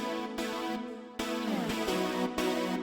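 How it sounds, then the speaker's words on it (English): A song mix plays with layered synthesizer parts joining in, sustained chords stacked over a steady beat, with sections shifting in pitch and continuing without pause. "And then you add in the synths."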